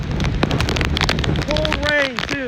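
Heavy cold rain pattering and drumming on surfaces with gusty wind noise during Hurricane Ian's landfall, while a voice speaks briefly over the downpour near the end.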